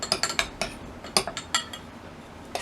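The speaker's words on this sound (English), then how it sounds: "So let's get this stirred all up." A utensil stirs a homemade sloppy-joe-style seasoning blend, giving a quick run of light clinks and scrapes against the container, close and fairly soft, in irregular bursts with brief pauses between.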